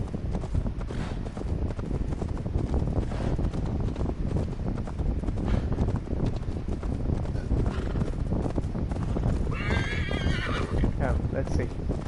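In Assassin's Creed Valhalla, rapid hoofbeats of a galloping horse pound continuously under wind noise, with a horse's whinny rising near the end and a voice speaking over it.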